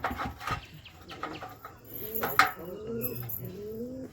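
Pet pigeons coo during a summer turmeric-water bath, several soft rolling coos near the end with brief wing and splashing noises earlier.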